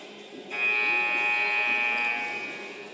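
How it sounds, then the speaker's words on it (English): A basketball arena buzzer ends a timeout at a women's college game, one long steady electronic tone, loud and sustained for about two seconds over crowd murmur, then fading. "So the buzzer sounds, everybody back on the court where they need to be."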